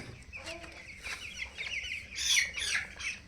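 Broiler chickens at sixteen days old clucking during weighing, several short close clucks and squawks in quick succession, softly and without talk.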